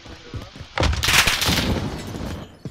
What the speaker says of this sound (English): He's shooting the fire rounds.